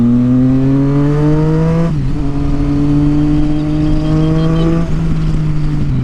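A Triumph Street Triple 675cc inline-three motorcycle engine revs loudly and close, holding steady high revs with two brief dips where the pitch drops and climbs again, with no voices.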